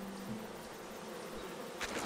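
Bee swarms buzz in Titan Quest, a dense continuous insect drone that holds steady and fairly loud throughout, with a brief sharper rustle near the end.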